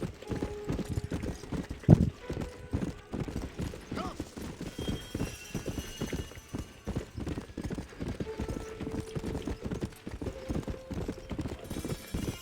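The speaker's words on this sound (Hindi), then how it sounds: "इस गेम में घोड़े काफ़ी रियलिस्टिक लगते हैं, ऐसा लगता है सच का घोड़ा जा रहा है" Horse hooves clip-clop steadily in the Red Dead Redemption video game, an even, moderately quick gait heard close, with a brief whinny early on, no talk over it.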